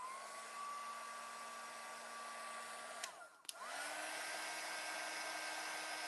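An embossing heat tool blows steadily and loudly to warm embossing powder on inked stamping, its whine dipping briefly as it is switched off and back on near the middle, then running on alone.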